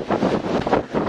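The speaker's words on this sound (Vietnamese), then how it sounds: "Gió cực kỳ mạnh." Strong wind buffeting across an open, unobstructed mountain top, roaring in short gusty surges close to the microphone, with no one speaking.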